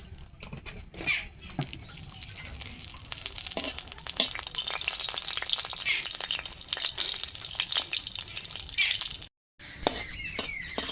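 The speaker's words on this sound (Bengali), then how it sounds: "শুকনো লঙ্কা ভেজে নেব সর্ষের তেল দিয়ে দিচ্ছি" Dried red chillies fry in mustard oil with a close, busy sizzle and spatter, punctuated by stirring clicks, broken by a brief silence near the end before the crackling resumes.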